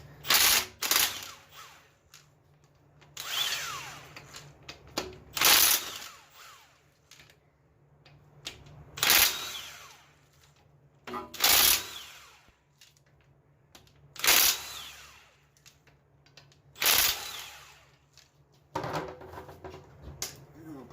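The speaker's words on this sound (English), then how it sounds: "I want to remove these flex plate bolts here." Flex plate bolts being removed from a 1977 Camaro engine, heard as repeated bursts of ratcheting and wrench clatter every few seconds, fairly close, separated by quieter shop background.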